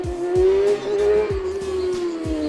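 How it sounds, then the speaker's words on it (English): A motorcycle engine running close by, a loud buzzing tone with a few quick revs, rough and continuous throughout the short stretch. "My man's Auto finally is whipping my bike."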